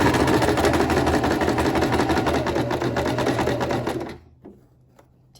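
A sewing machine runs continuously, stitching a shirt seam at 5/8 seam allowance with a backstitch. A loud, close, rapid mechanical chatter lasts about four seconds and then stops, followed by a few faint handling clicks.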